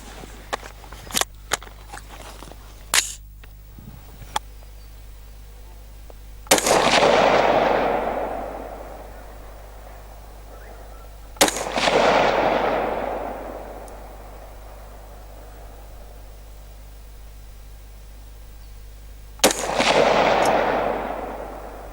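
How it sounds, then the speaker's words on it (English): Three loud, sharp gunshots from a Ruger SR-556C rifle ring out several seconds apart, each followed by a long, rolling echo. A few faint clicks and handling noises come before the first shot. "This is my first ever shot of this rifle, so I have no idea where this is going to go"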